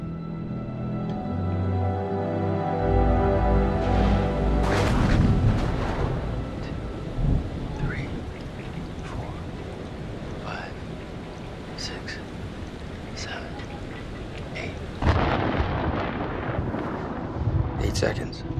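Thunder from a storm in The Dark Pictures Anthology game rumbles loud and low, with a long rolling peal and a second, fainter rumble later, and rain beneath it.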